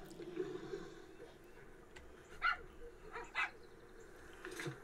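A dog barks in the video game PixArk: a few short, spaced barks and yips over a low, steady background hum.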